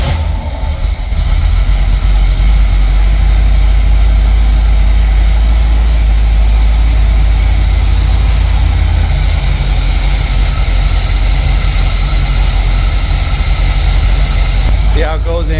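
A 1976 Corvette C3 with an L48 small block Chevy 350 V8 runs loud and steady close by, a low rumbling idle that fills the whole stretch without pause, ending in a short clatter.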